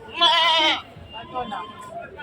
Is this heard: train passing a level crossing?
no